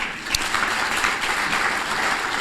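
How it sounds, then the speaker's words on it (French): An audience claps steadily throughout an alumni day ceremony, a dense, sustained round of applause with no pauses. "Il faut applaudir les alumni."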